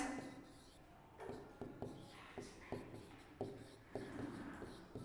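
Chalk or marker writing on a board during a class 7 maths lesson, a series of short taps and scratchy strokes in uneven rhythm, fairly faint and close, with no talk.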